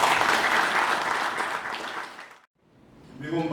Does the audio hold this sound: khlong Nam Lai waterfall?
no